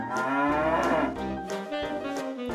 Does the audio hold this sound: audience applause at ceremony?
no